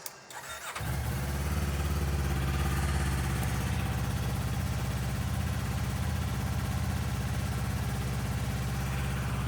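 A 2025 Kawasaki Ninja 500 motorcycle with its stock exhaust starts, then settles into a steady, even idle, close and moderately loud throughout.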